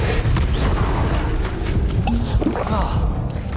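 The Confringo blasting spell in Hogwarts Legacy bursts in loud, booming explosions amid dense, continuous combat noise and effects that run throughout.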